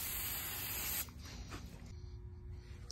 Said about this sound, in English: blast it with the one and only brake cleaner